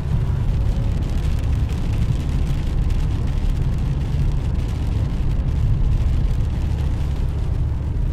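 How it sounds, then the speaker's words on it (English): Rain patters on a car windshield in the Saudi desert, a dense, even wash of drops over the low rumble of the vehicle's cabin, continuous and without talking. "It's the sound of rain on the windshield here in the car"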